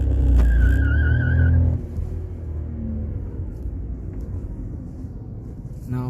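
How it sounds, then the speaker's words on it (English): A Volkswagen Polo hatchback launches from first gear after being held at about 4000 RPM, with a loud engine roar that drops to a steadier drone as the car pulls away and accelerates. "Let's launch the vehicle."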